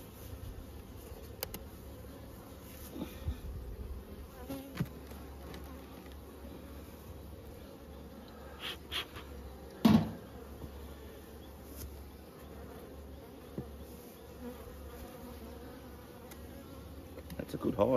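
Honeybees buzzing around an open hive as it is put back together, a faint continuous drone with scattered clicks and knocks from hive parts being handled.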